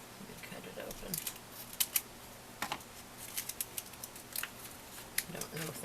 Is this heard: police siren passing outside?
no